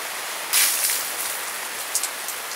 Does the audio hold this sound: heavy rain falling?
yes